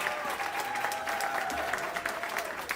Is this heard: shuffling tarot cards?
no